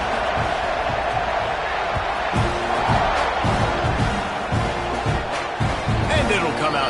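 A college football stadium crowd roars steadily through a kickoff after a scoring drive, a dense continuous wash of cheering with a commentator talking over it.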